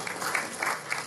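Audience applause at a political rally as a guest is welcomed, a dense spread of clapping with soft swells, steady and moderately distant.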